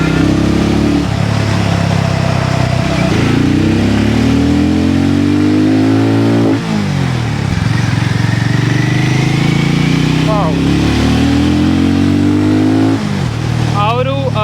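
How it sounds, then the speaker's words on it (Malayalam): A Hero Mavrick 440 motorcycle engine revs hard through repeated rising climbs, dipping between gear shifts, loud and close under a rider's ongoing talk. "അതിൻ്റെ എൻജിൻ സൗണ്ടും."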